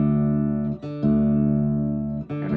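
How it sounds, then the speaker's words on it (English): A guitar string sustains a steady pitched tone while the tuner is loosened to drop it to a D an octave lower, with brief breaks and a few string noises where the pitch is adjusted. "So you're going to loosen the string tension by turning it that way"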